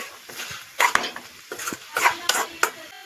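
A spoon stirs Kerala chundakka thoran masala in a pan, scraping and clinking against the metal in a few irregular strokes over a soft background sizzle, with no talking.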